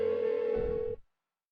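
A telephone rings unanswered in the Persona 4 video game, a steady tonal ring that holds for about a second and then cuts off into silence.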